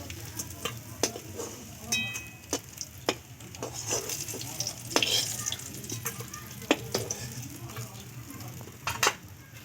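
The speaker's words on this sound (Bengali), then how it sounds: "লাল লাল করে ভালো করে ভেজে নেবো" Fish pieces sizzle and fry in hot oil in a home kitchen, with a steady crackling hiss broken by sharp clinks and scrapes of a spatula or utensil against the pan at irregular intervals.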